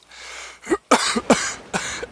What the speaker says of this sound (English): Your cough.